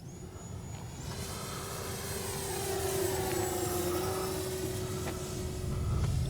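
A Durafly FG-1 Corsair RC model warbird rolls overhead, its electric motor and propeller giving a steady whining drone that swells and shifts in pitch as it passes at moderate distance.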